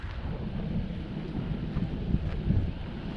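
Wind gusts across a microphone at a park lakeside during sailing of a DragonForce 65 model sailboat, a constant low rumbling buffet with no talk.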